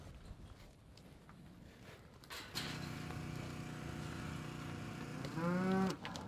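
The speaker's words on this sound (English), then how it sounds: "We're getting all the cows in." Cows being brought into a barn on a ranch moo in low, drawn-out calls, one after another, with a louder, closer moo near the end over a quiet barn background.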